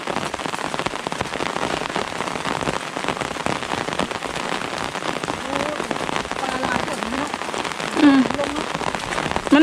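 Heavy rain pattering steadily on a surface close by, a dense continuous hiss with a faint voice briefly audible near the end.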